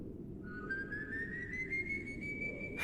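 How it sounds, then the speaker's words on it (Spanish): A single long whistle rises slowly in pitch over a low rumbling background, sustained and clear for over two seconds, used as an eerie effect in a horror story about night-shift work. "Pero entonces vino otro silbido."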